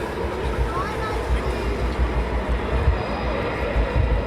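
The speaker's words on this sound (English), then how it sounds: "we have 3 Squadron now taxiing out on the south side of the airfield" RAF Typhoon Eurofighter jets taxiing at night on the south side of RAF Coningsby airfield, a steady, dense engine rumble and whine at a distance, with a voice talking over it.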